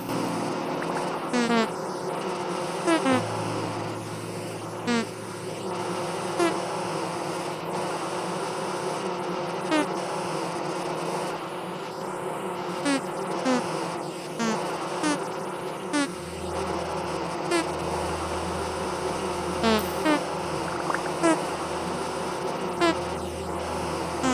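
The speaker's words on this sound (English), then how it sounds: "Can't even run from the bees." Swarming bees drone steadily in a video game, a dense continuous buzz with small repeated rises and dips over a constant game background hum, fairly close and loud.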